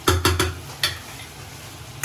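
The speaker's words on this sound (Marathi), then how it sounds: "कांदा मस्तपैकी करून घेऊया, परतून घ्यायचा" Pieces of onion tossed and stirred in a hot pan for a chicken masala, with a few sharp utensil scrapes and clatters over a low, steady sizzle.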